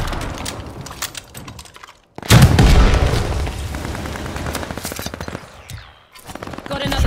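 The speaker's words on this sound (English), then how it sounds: "Ally mortar fire inbound." Mortar fire and gunfire in Call of Duty: Vanguard, a loud close burst of explosions and rapid machine-gun fire after a brief silence, booms and rattling shots over several seconds.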